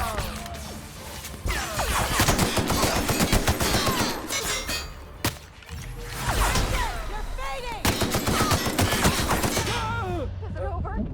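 Big gun firing in the video game The Outer Worlds, loud repeated blasts and crashing impacts in dense bursts over several seconds, with brief pauses between volleys.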